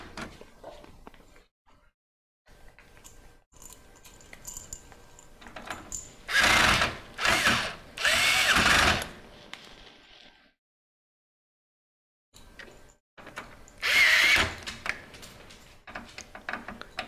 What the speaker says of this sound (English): I'm going to pull out the old electric driver, which has a 6-inch long skinny bit